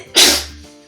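One loud, close sneeze from a person in a quiet indoor room: a sharp explosive burst that fades away over about half a second, with no talking.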